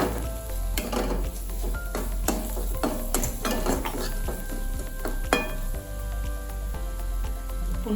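Green chillies and gram flour sautéed in a pan for Kolhapuri mirchi thecha: a spatula scrapes and knocks against the metal pan in repeated strokes over a low, continuous sizzle, close and fairly loud.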